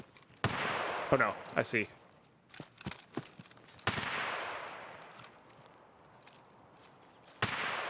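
Scattered gunshots in the video game Escape from Tarkov: single sharp cracks and a few quick bursts, some with echoing tails, are spread across the moment while a player speaks briefly between them.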